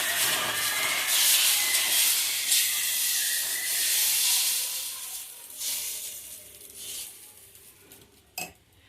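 Green gram dosa batter is poured onto a hot pan and spread around, giving a loud, close sizzling hiss with scraping and rubbing that gradually fades over several seconds, ending with a sharp clink.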